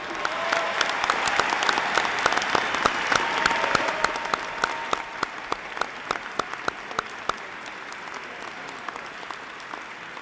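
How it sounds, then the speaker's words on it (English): Audience applause for a graduating class of 2023 at a ceremony, a dense, steady wash of clapping that swells early and then thins into scattered individual claps toward the end. "Please join me in giving a round of applause for the graduating class of 2023."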